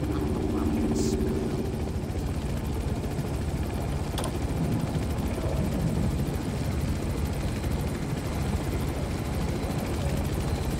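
Helicopter rotor and engine drone from the video game Manhunt 2, a steady, loud, continuous whir with broadband noise throughout, with game voices and other speech faintly mixed in.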